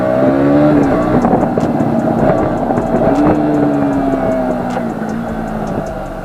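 A 2020 BS6 KTM Duke 200 motorcycle engine runs steadily while riding, a loud, close droning hum with rising and falling revs throughout.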